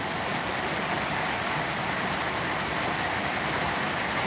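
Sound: heavy rain in Solapur

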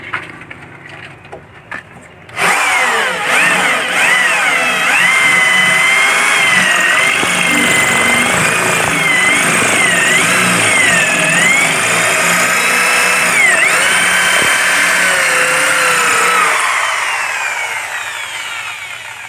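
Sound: power drill drilling a hole

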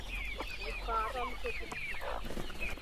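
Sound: hens clucking

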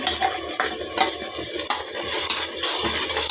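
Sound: ground masala stir-fried in pan

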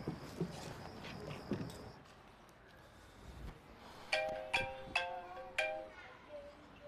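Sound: phone ringing during an outgoing call

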